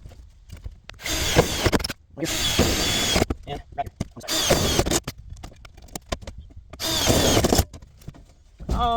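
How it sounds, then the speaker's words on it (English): A power tool whirs in several bursts of a few seconds each while riv nuts are set in a car body near the fuel tank, with pauses and small clicks between the runs. "we'll put some of these riv nuts in"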